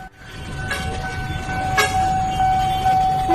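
KRL commuter train nearing a level crossing with the barrier down: a rising rumble of rail cars, a sustained horn tone and short bell-like tones over traffic noise, growing louder.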